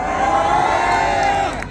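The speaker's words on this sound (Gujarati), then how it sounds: "જોરદાર તાળી થઈ જાય" A large live-show audience bursts into loud, sustained applause mixed with cheering and shouts, dense and close, fading slightly at the end.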